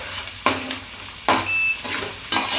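Green chillies and tomato being stirred in a hot pan for masala rice, with a steady sizzle broken by three sharp scraping stirs of the spatula, close and clear, with no voices.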